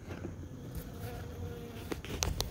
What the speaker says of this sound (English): So those are some Western honeybees